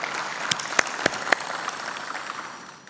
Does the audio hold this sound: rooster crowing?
no